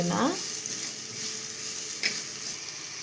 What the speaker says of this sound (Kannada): ಈರುಳ್ಳಿ ಹಾಕೊತಿದ್ದೀನಿ ಹಸಿ ವಾಸನೆ ಹೋಗೋವರೆಗೂ ಹುರ್ಕೋಬೇಕು